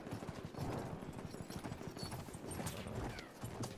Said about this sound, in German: Ah, hier ist ein Pferd.